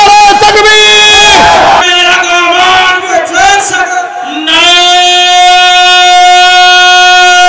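A large crowd chants a loud, unified answer to a takbir call at an outdoor religious gathering in Kushtia. The shout swells, dips briefly, then rises again into a long sustained chorus.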